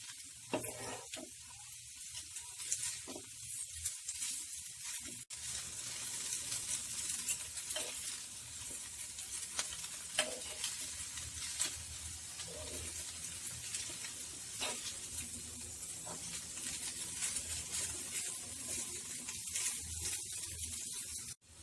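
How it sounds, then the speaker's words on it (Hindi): Ching's Secret veg hakka noodles being tossed and mixed in a hot pan, with a steady sizzle and soft scraping stirs running throughout, close and fairly quiet, no voices. "मैंने यहाँ पे चिंग्स सीक्रेट के वेज हाका नूडल्स यूज किए हैं। हम इन्हें धीरे से मिक्स कर लेते हैं।"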